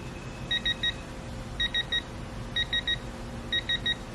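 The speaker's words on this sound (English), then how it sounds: "It beeps pretty fast when you at your specification." A Quinn 1/2-inch drive digital torque adapter beeps at its target torque, sounding four quick bursts of three short, evenly spaced electronic beeps over a low steady background hum.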